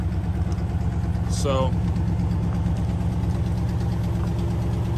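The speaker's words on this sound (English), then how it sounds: "It's running pretty good besides the exhaust leak." A 1954 Ford Mainline engine idles steadily with an exhaust leak, giving a low, even rhythmic puttering under a brief spoken word.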